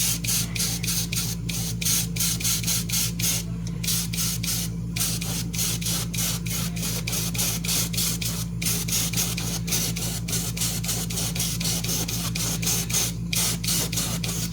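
An airbrush spraying paint hisses steadily at close range over a constant low hum, with rapid, regular pulsing running through the spray.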